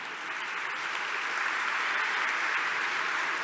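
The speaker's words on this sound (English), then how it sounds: "Yeah, please clap for all these people." A steady, dense round of applause from a conference audience at RustConf 2024, loud and continuous throughout, with no speech over it.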